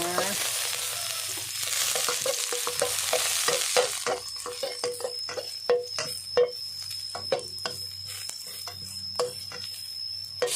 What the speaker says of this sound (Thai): ง่ายแต่น้ำมันนิดเดียว ไม่ต้องใส่เยอะ เจียวกระเทียมก่อนนะคะ